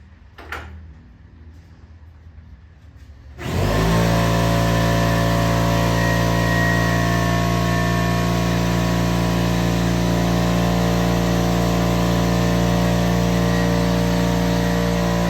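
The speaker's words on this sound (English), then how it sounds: "I'm going to turn my compressor on and we'll hear a bit of noise while it airs up" An air compressor kicks on abruptly after a few quiet seconds and runs loud and steady, a droning motor hum with a strong tonal whine, while airing up a tire on a 2009 Police Special motorcycle.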